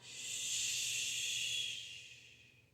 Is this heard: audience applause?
no